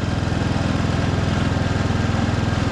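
A large broken-down Husqvarna lawn tractor's engine runs steadily close by, a loud, even mechanical drone with a regular low throb and no voices.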